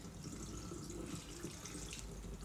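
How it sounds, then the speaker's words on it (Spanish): Cold tap water pouring over drained macaroni in a colander, a steady broadband rush and splatter that is close and constant throughout, with no voices. "le voy echando agua fría bastante"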